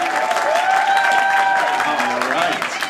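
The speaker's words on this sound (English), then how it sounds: "Please give them a big round of applause." A live comedy audience gives a steady, loud round of applause and cheering for the comedians, dense clapping that fills the whole stretch.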